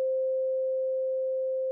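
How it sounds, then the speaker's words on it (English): A pure sine wave tone from a Bitwig Phase-4 synthesizer, holding one steady pitch for nearly two seconds, clean and fairly loud with no other sound around it. "So this is a sine wave, but this is basically operating at double the frequency."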